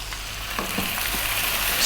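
Ginger garlic paste sizzles and fries in a hot curry pan for a chicken potato curry, a steady crackling hiss with a few stirring scrapes, close and continuous with no talk.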